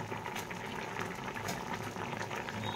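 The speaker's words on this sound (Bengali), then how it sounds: "শিমটা কিন্তু ঝোলের সাথে ফুটছে।" Flat beans bubbling in a simmering curry gravy with boal fish, onion and mustard, a steady close rolling boil with continuous dense popping and hissing throughout, no voices.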